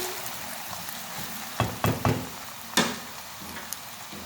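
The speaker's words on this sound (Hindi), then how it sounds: "अरवी को हमने मीडियम फ्लेम पर जिंजर गार्लिक पेस्ट के साथ फ्राई कर लिया है।" Taro root (arbi) fries with ginger garlic paste over a medium flame, a steady close sizzle broken by a few sharp spoon-stirring scrapes and knocks, with no talking.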